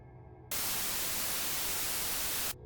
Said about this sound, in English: This isn't pure white noise, but it's close enough.